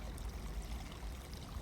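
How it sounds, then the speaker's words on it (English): Fresh spring water flows steadily down from a natural spring at a riverfront property, a soft continuous pouring and trickling wash that stays low and fairly faint throughout, with no voices. "Look how clean that water looks coming down from a natural spring."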